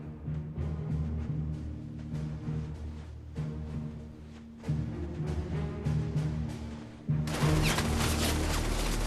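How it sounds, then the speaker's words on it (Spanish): Scattered gunshots crack over a low, rumbling battle din, with several sharp reports in quick succession and a louder burst near the end. "Pero pronto estallan los disparos y frenan su avance."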